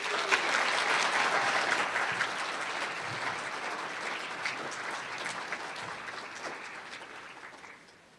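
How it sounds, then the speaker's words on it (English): Sustained audience applause at a university award ceremony honoring Gold Axe and Distinguished Senior recipients, a dense crowd clapping steadily for several seconds before tapering off at the end. "Please join me in a final round of applause for all of our award recipients, their families, and their university mentors."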